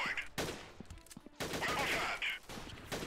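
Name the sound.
pistol gunfire in a video game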